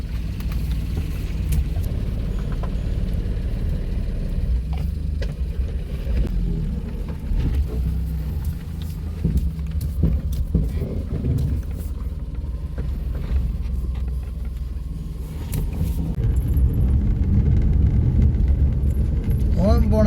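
Low, steady rumble inside a moving car, a constant droning hum with voices talking over it.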